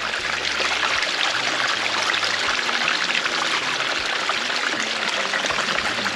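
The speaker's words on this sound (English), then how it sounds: "All right, I'm gonna dump some of this water." Water dumped out of a gold panning pan holding placer gold concentrates, a steady loud rushing pour running continuously alone throughout.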